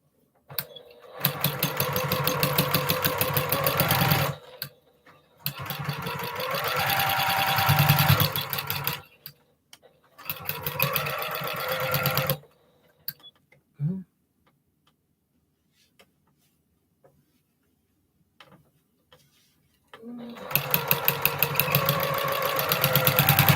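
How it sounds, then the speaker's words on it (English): A sewing machine stitches quilt block pieces together with a quarter-inch seam, running in several bursts of a few seconds each, broken by short pauses and a longer quiet stretch with faint handling sounds. "Get them sewed together. 1/4 inch seam allowance."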